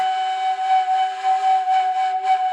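A breathy Japanese flute holds one steady, pure note with slight wavering and soft breath noise, close and clear.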